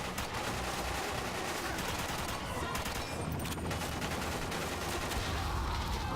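Sustained gunfire rattles as a player shoots over cover in the Xbox 360 game Quantum of Solace, with dense rapid bursts filling the scene against a loud noisy backdrop.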